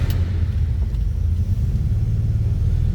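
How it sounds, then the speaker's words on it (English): A 1954 Plymouth Plaza Club Coupe's inline six engine runs with a steady, deep, close rumble and a faint rhythmic chug, holding an even loudness throughout with no voices. "So that inline 6 fires right up"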